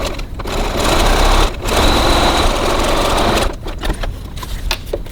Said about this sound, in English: now at the other end we're going to stitch just the 3 millimeters 1/8 of an inch from the edge